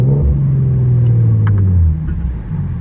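Infiniti G37 exhaust during a downshift while driving, a loud, deep steady drone that rises in pitch, then drops away as the revs fall, heard from inside the car with no talk.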